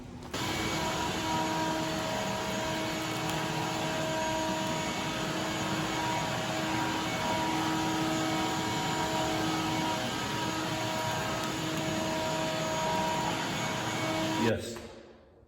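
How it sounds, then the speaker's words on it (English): A vacuum cleaner runs steadily in a garage with a loud, constant whine and roar that holds for about fourteen seconds, then cuts off abruptly near the end. "I just ran the vacuum over it all"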